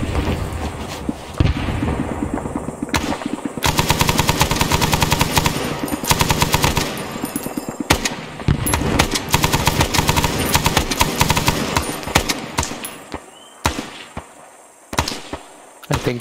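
Ambush in ARMA, SOG Prairie Fire, with sustained machine-gun bursts and rapid gunfire rattling on loud and close, later thinning into scattered single shots and thuds.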